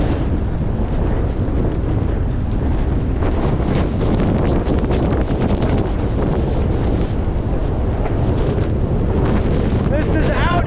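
Blizzard wind in an open field with no shelter roars loudly and constantly, buffeting the microphone in a dense, unbroken rumble for the whole stretch.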